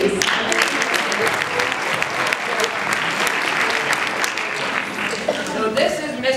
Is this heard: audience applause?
yes